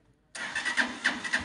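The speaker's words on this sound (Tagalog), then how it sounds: "napagana pa rin yung kanyang electric starter" A Honda TMX 125 Alpha motorcycle engine fires up on its electric starter after sudden silence, then runs at a loud, uneven, pulsing idle.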